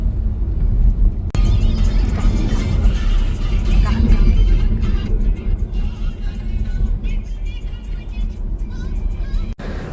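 A car engine drones steadily from inside the cabin on a road trip from Sambhajinagar to Gangapur, with a loud low rumble and road noise throughout. Voices talk intermittently over it.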